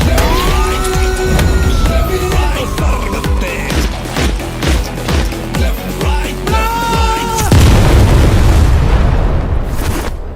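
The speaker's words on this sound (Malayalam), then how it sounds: "ആ സൈറൻ ഇടണം." A police siren wails, rising and falling over loud booming hits and dense music, ending in a sustained noisy burst.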